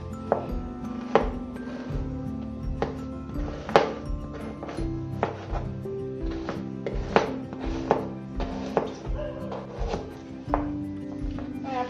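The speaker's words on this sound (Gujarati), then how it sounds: "જરાક બીટને કાપીને ક્રશ કરવાના છે." A knife cuts beetroot on a board in a series of distinct, fairly loud thuds at an uneven, unhurried rhythm, with faint background hum between strokes.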